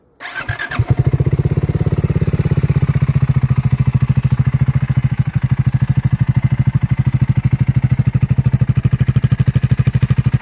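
A BSA Gold Star motorcycle engine cranks and fires up, then settles into a loud, steady, rhythmic idle with a chugging pulse, close by and alone.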